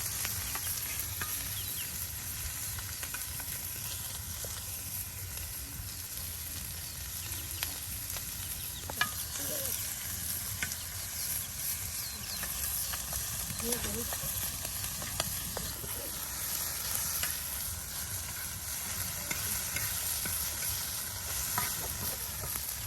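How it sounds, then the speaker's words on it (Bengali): Taki fish fried in a pan with cumin paste, stirred with a utensil; a steady soft sizzle continues throughout with occasional scraping and stirring clicks, and a faint voice in the background. "সব কিছু দিয়ে একসাথে ভেজে নেওয়া হচ্ছে"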